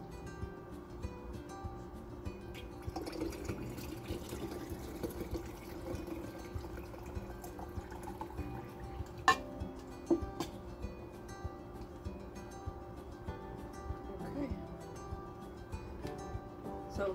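Ham hock broth poured through a filter while being strained, giving a low, steady liquid trickle throughout with a few soft clinks, heard close and fairly quiet with no talking.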